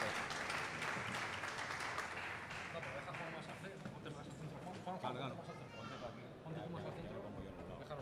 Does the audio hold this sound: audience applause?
yes